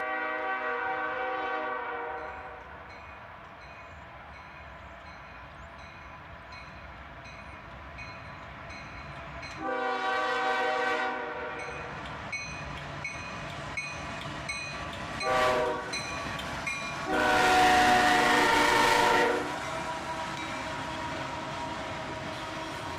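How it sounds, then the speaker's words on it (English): A freight train rumbles past steadily for a long stretch, its horn sounding several times in long loud blasts, with a sharper, higher blast near the end. "the tail end of the train passed us by"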